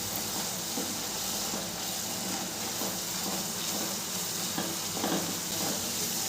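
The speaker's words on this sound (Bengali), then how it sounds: "মশলাটা খুব নেড়ে চেড়ে ভালো করে কষিয়ে নিতে হবে, যতক্ষণ না পর্যন্ত মশলা থেকে তেল বেরিয়ে আসছে ততক্ষণ পর্যন্ত মশলাটা আমি কষাবো।" Spice masala for Bengali egg kalia frying in oil while being stirred, with a soft, steady sizzle and hiss and intermittent scraping of the spoon against the pan, at moderate volume with no voices.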